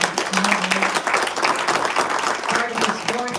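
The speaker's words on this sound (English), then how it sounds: "Let's give another round of applause to Mario Salento." A labor awards ceremony crowd claps in a dense, continuous burst of applause, close and loud, with voices and cheering mixed through it.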